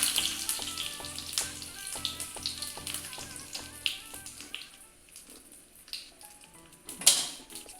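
Curry leaves dropped into hot oil for a sambar tempering give a quick burst of crackling and sizzling pops, close and moderately faint, over soft background music.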